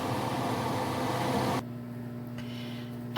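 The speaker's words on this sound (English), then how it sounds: "If you hear my microwave going, that's because I'm cooking regular rice" A microwave oven runs with a steady low hum and whir, the broad noise around it dropping away partway through while the drone continues.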